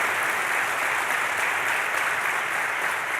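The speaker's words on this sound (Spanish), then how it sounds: "Le doy un aplauso al Señor porque es santo." Church congregation applauding the Lord during a Sunday service, a steady, dense wash of clapping from many hands, even and sustained with no talk over it.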